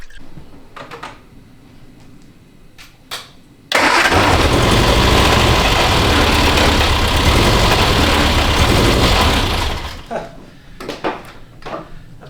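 A 1967 MG Midget's A-series engine, running on three cylinders with one plug lead off, cranks and catches, then idles loud and rough for about six seconds before cutting out, with clinks and movement around it.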